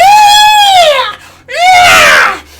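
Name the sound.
baby owlbear screeching, fantasy creature sound effect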